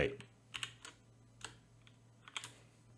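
A computer keyboard is typed on in quiet, scattered keystrokes, a few short bursts of clicks with a faint voice in the background.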